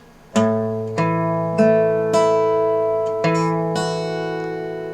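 An acoustic guitar plucks single notes one after another in a slow, even rhythm, each ringing out and overlapping, close and clear.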